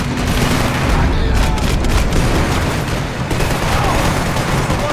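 Dense, continuous Max Payne 3 gunfire and booms, loud and unbroken, like a heavy firefight up close.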